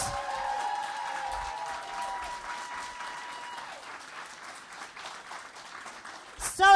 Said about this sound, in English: Guys, start clapping for Sam